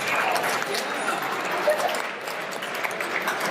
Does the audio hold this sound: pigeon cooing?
no